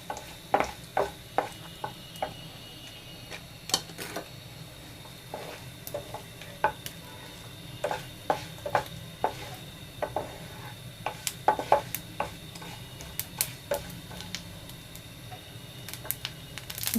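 Two torn bay leaves and cumin seeds lightly frying in a pan for a mixed vegetable dish, with a soft background sizzle broken by frequent sharp clicks from stirring against the pan.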